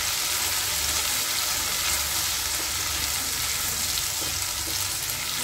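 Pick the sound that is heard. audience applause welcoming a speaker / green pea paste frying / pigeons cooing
green pea paste frying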